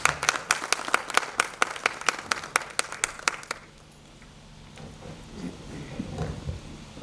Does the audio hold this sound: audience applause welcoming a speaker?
yes